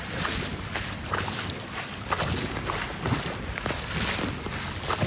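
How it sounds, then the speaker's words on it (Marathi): A flooded river in Usarli village, Panvel, rushing with strong force after heavy rain, heard as a continuous loud broadband roar of water mixed with wind buffeting the microphone, with no speech. "नदीचा फोर्स पण बघा किती जोरात वाहत आहे एकदम पूर्ण"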